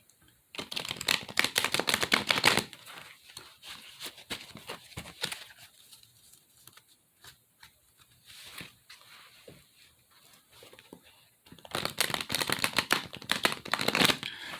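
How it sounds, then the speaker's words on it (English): Archangel Power tarot cards are shuffled by hand in quick riffling bursts, dense at the start and end with scattered softer card clicks and slides between, close and fairly loud with no talking. "While I'm awkwardly shuffling these cards"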